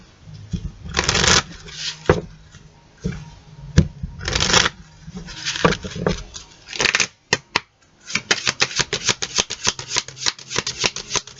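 Golden Nostradamus oracle cards being shuffled close by, several riffling bursts followed by a rapid run of crisp flicking snaps toward the end, loud and without speech.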